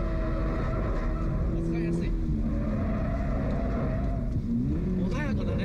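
Toyota GR86 drifting, its engine droning loud and steady throughout with rising revs and a brief tire squeal near the end, heard at close range.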